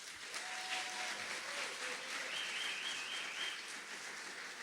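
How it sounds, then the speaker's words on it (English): An audience applauds the graduating Class of 2022 at the St. Croix SDA School graduation ceremony, with steady, fairly soft clapping that continues for several seconds with no voices over it. "And let's just give them another clap."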